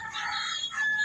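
A Siamo Asil rooster in a breeding pen crows once, a short, fairly close call with a rising, strained tail, no voices alongside.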